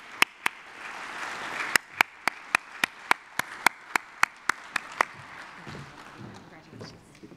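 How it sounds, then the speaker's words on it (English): Sparse, evenly spaced claps, about fifteen sharp single hits, greet an essay award winner at a transportation scholarship ceremony. They sound over low background talk and then fade out. "How about a big round of applause for Abubakar Zidane?"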